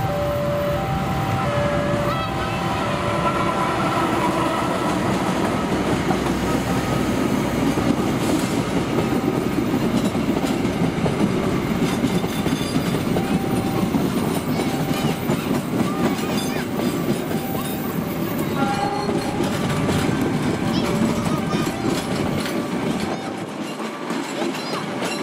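Papandayan passenger train rolling through Karawang station, a loud steady rumble with clickety-clack of wheels on rail joints sustained close by for the whole stretch, fading slightly at the end.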